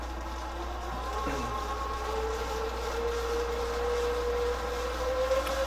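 The rear wheel of a Segway X260 electric dirt bike spins up, giving a steady electric whine that climbs slightly in pitch over a constant low drone.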